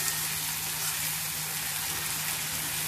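Cluster beans cook with coconut paste in a pan, a steady, even frying sizzle and hiss that continues alone without pause.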